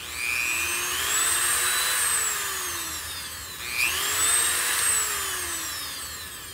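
A repaired Dremel rotary tool runs alone up close, its high whine sweeping up and down in pitch twice, with a brief dip in the middle and no speech.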